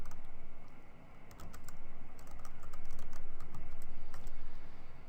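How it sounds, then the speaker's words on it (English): Steady, rapid clicking of typing on a computer keyboard while formatting text, continuous crisp keystrokes close to the mic with no talking. "start typing"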